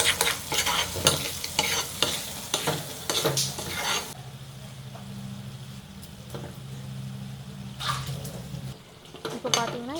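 Tomato pickle masala fries in a pan while a spoon stirs it constantly, producing rhythmic metallic scrapes and clatters over a steady sizzle, with a quieter frying stretch between the bursts of stirring.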